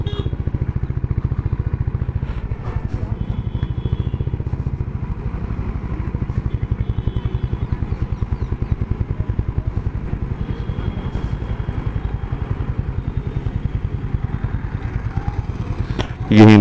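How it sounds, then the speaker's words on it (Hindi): A motorcycle engine runs steadily while riding, producing a loud, even train of rapid thumping pulses close up, with a brief louder burst at the very end. "इंजन बहुत जबरदस्त है"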